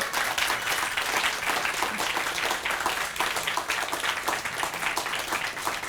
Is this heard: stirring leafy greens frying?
no